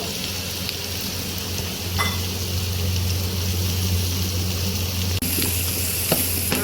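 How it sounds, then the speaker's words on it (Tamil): Onions and mixed vegetables sautéing in a pan for vegetable biryani, a steady close sizzle and frying hiss with occasional stirring scrapes, continuing unbroken without speech. "நல்ல காய்கறி இந்த வெங்காயம்லாம் நல்லா வதங்கி வந்துருச்சு"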